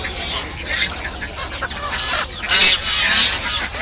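Fighter chickens cluck and squawk at a crowded riverside village market, with a sharp loud burst partway through and goose-like honks mixed in, over steady crowd chatter.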